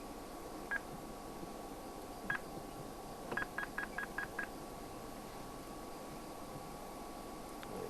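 A malfunctioning two-way game-drive radio lets out short electronic tones, a single beep, another, then a quick run of five evenly spaced beeps over faint steady hiss.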